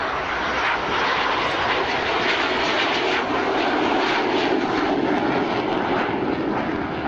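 Steady, loud Sea Vixen jet aircraft engine roar at an air show, holding at an even level throughout, a broad droning rush with no voices.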